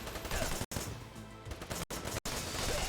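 Dense, loud gunfire from the game Wanted: Dead fills the whole stretch as a continuous barrage of rapid shots, broken only by a few brief cutouts.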